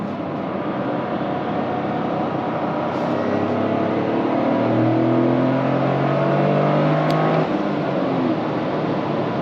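A Toyota GR Corolla accelerates hard, its engine note climbing steadily as it winds out the gear, heard from inside the car as a loud continuous drone that peaks and then drops off.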